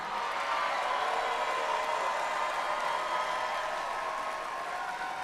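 A crowd cheers at a FIRST robotics state championship in Michigan as mentors walk onto the field. A steady, distant roar of cheering and applause fills an arena and holds at an even level throughout, with no distinct voices.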